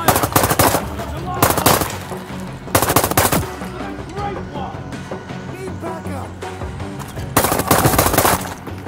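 Rapid machine-gun bursts and scattered rifle shots ring out in the Zero Caliber VR first-person shooter game, loud repeated volleys separated by brief pauses of echoing combat noise.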